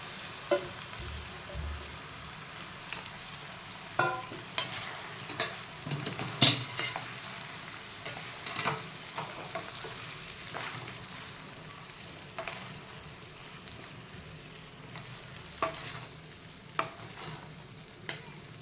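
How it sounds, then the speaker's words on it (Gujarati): Sabudana and potatoes stirred in a pan for sabudana khichdi, a spoon scraping and clinking against the metal with a soft sizzle underneath, in irregular strokes throughout, close and fairly quiet, with no talking. "હવે આ સાબુદાણા છે એ બધા આપણે એમાં એડ કરી દેવાના"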